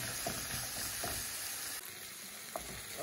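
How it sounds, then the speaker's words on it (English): Tomato fries in a pan for keto mole chicken enchiladas with a steady, close sizzle, broken by a few soft scrapes as the mixture is stirred. "So we're gonna start adding our tomato in and mix it all together."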